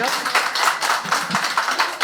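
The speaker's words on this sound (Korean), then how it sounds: "박수 한번 주세요." Applause from an audience at a neighborhood redevelopment briefing, a steady patter of many hands clapping for about two seconds with no talk over it.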